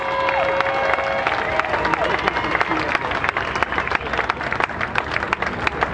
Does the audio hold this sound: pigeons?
no